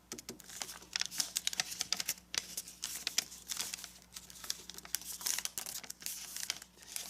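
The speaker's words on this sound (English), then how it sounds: "fold the flap up so the valley fold goes between this point and this point." Paper crinkles and rustles quietly while being folded and creased for a pleated origami labyrinth, a busy stream of small crisp crackles and taps close to the listener.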